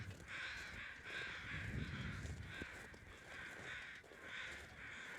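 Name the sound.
crows cawing in the video game The Long Dark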